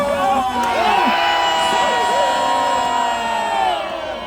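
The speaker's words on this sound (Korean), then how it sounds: "나라 사랑하는 마음으로 함성 발사!" A large crowd at an outdoor political rally calling for the impeachment of President Yoon Suk Yeol to be rejected roars and cheers, with many voices shouting together in a loud, sustained swell that holds steady throughout.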